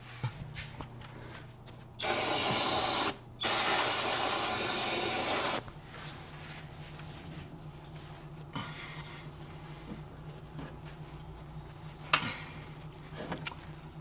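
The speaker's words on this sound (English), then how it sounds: "Sprayed a little bit of a parts cleaner." Parts cleaner sprays from an aerosol can onto the EGR valve area of a 2012-2016 Mercedes-Benz GL 350 with the OM642 diesel engine, two loud close hissing bursts of about a second and two seconds, followed by quiet workshop handling.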